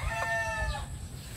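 A young cockerel gives a short, high clucking call up close, then fades into low background rumble.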